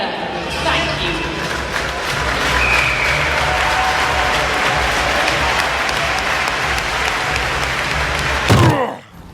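A crowd applauds steadily at a wheelchair rugby league game, sustained clapping filling the arena with some voices mixed in, ending with a heavy thump before it drops away.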